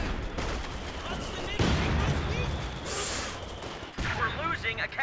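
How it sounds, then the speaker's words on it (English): Sniper and rifle fire in a Company of Heroes 2 1v1 match, a scatter of sharp gunshots and cracks amid battle noise, moderately loud beneath a commentator speaking. "snipers going to work here now"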